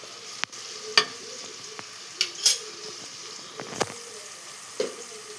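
Quiet sizzling in a pan with intermittent scraping and clinks as a spatula stirs, the strokes spaced irregularly.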